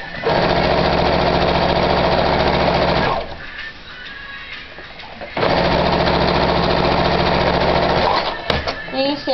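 A sewing machine stitches up a fabric tube with a loud, steady, close mechanical hum that runs for three seconds, pauses briefly, then resumes for several more seconds and ends with a few clicks.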